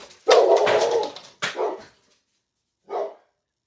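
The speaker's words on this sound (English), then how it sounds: "That's what she's barking at." A dog barks close and loud, one long rough bark followed by shorter yaps and a final single bark, reacting to a neighbor's door closing.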